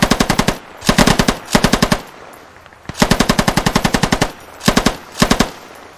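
Rapid automatic gunfire from a weapon in a video game, several distinct bursts of evenly spaced shots, loud and close, with short pauses between volleys and no talking over it.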